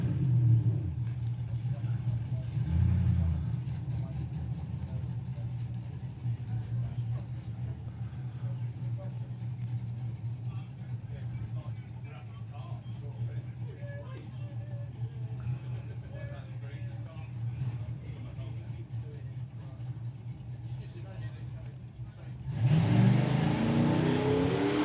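A Corvette drag racing down the strip, its engine a low sustained roar carried at a distance over a long pass, with a louder burst of revving near the end and an announcer talking over much of it.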